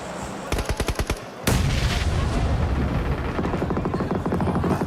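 Grenade blast and gunfire in a PUBG Mobile esports match: a short burst of rapid shots, then a loud explosion-like roar that gives way to sustained, dense automatic fire close by.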